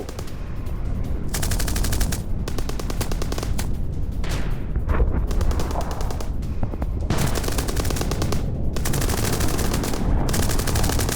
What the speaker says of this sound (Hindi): अवदीविका में यूक्रेनी सेना का हमला, विद वीडियो